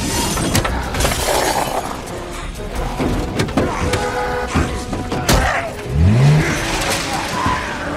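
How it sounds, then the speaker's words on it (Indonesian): A car crash in a zombie film scene, with a dense roar of engine and impact, sharp shattering glass and scraping, loud and close through the whole stretch. "karena tabrakan barusan, kemudian membuat tangan Herzog patah dan terjatuh ke dalam mobil"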